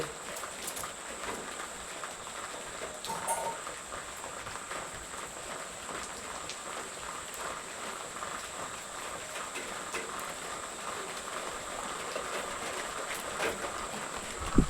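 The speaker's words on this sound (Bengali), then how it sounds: "বাইরে কিন্তু খুব বৃষ্টি হচ্ছে।" Heavy rain falls outside, a soft steady patter and hiss with faint scattered drips, heard from indoors at a moderate distance.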